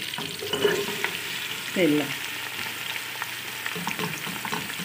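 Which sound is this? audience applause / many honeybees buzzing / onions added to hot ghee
onions added to hot ghee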